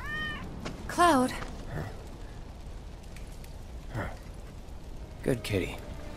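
Cat meowing in the video game Final Fantasy VII Remake, with one clear rising meow followed later by a couple of fainter cries amid rain-like ambience and voices.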